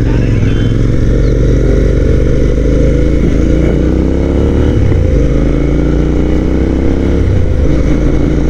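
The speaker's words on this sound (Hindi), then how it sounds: "ये अंडर पास है छोटा सा, एग्जॉस्ट के आवाज़ तो बनती है भाई यहाँ एक।" Royal Enfield Interceptor 650 motorcycle riding through a small underpass, its loud parallel-twin exhaust thumping close and continuously, with rising and falling throttle sweeps echoing off the walls.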